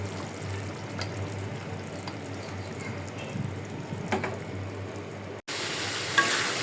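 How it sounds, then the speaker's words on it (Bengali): Dried fish (shutki) frying and being stirred in a pan: constant soft sizzling with scattered scraping stirs, cut off by an abrupt break near the end before the sizzle returns slightly louder. "শুটকি বোনার অবস্থা"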